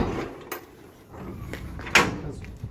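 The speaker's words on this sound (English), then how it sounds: "Another drawer, again, it slides out." Slide-out drawer on an aluminum Eloquip carpenter's toolbox body of a Ford Transit Custom truck, giving several soft sliding clunks and one sharper knock close by, no talk.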